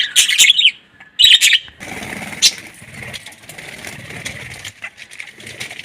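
Hungry hens chirp and squabble at feeding time, with two loud bursts of high chirping up close at the start, followed by quieter scattered clucks and calls.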